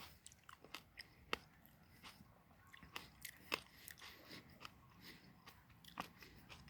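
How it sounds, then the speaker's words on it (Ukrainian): Crisp, juicy crunches from biting into a fresh Bohatyr-variety fruit by mouth without a knife, a series of sharp close-up snaps and chewing crackles, irregular over several seconds with no talk. "зараз я розкушу, прошу вибачення за хрумкіт"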